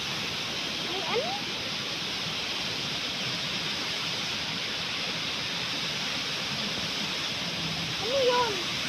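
Rushing water from a spring or stream makes a steady, full, hissing roar throughout, with a faint voice rising briefly near the start and again near the end.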